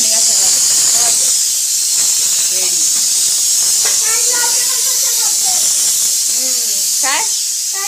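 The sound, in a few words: scrubbing dishes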